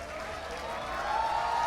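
An audience applauding debaters at a university debate event, a steady wash of clapping that swells slightly toward the end, moderately loud and continuous.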